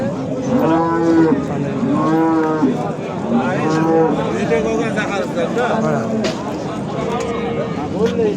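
Cattle moo repeatedly at the Kitob livestock market, several long bellows one after another, with a busy crowd murmuring and talking in the background.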